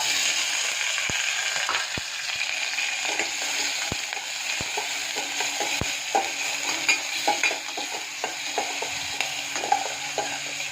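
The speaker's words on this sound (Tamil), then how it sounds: "இப்போ இதை கடுகு போட்டு தாளித்து கொட்டிடலாம்" Oil sizzles steadily in a pan with mustard seeds, onion and garlic frying, scattered pops and crackles, punctuated by a few sharp clicks and occasional stirring scrapes.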